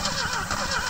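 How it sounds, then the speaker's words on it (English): The engine of an old 1970 Opel car is cranked by its starter. A brief, rhythmic, churning whir rises and falls in quick pulses for about a second. It is close and moderately loud, with no talk. "we're gonna give it a little crank. It might boom or something"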